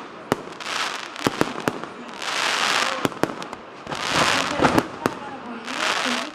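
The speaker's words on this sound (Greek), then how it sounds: "πλημμυρίζει από πολύχρωμα και εντυπωσιακά πυροτεχνήματα." Fireworks burst over a city square at a Christmas tree lighting, sharp loud bangs repeating irregularly with bursts of crackling fizz between them, and a crowd can be heard beneath.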